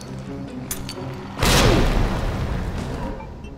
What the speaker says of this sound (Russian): Погоди, граната.